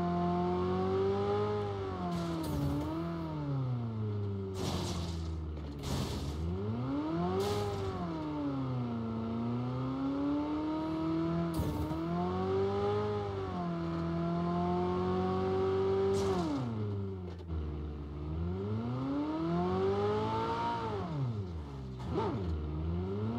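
A car engine in PUBG Mobile revs and shifts repeatedly, its pitch sweeping up and down through gear changes, loud and close and continuous with occasional clattering bumps and no talking.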